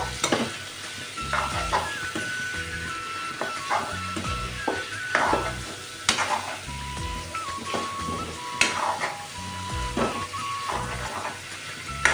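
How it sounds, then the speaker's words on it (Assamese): Meat frying in a pan with paste for a meat and taro curry, steady sizzle close by with frequent scraping stirs and utensil clinks against the pan, no talk. "মাংসখিনি খালি অলপ টাইম ফ্ৰাই কৰিব লাগিব"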